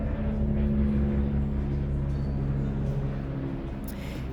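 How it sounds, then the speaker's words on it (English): A low droning engine hum with steady tonal layers passes overhead, loud at first and slowly fading, with no voices. "Helicopter."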